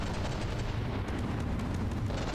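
Cram cannons fire during a battleship battle in the game From the Depths, a continuous, heavy roar of booming shots and explosions layered into one dense, loud barrage with no pause.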